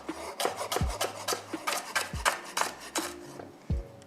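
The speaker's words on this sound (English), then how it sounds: "Now I'm gonna slice this into little pieces." A knife slices pandan leaves on a cutting board, giving a quick series of crisp, raspy cuts with sharp thuds as the blade meets the board, close and fairly loud, with no talking.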